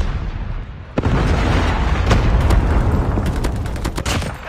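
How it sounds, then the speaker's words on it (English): In the video game Call of Duty, a Predator missile strike explodes with a heavy close boom, then a dense roar crackling with rapid gunfire and further impacts, with no voices. "Predator missile inbound."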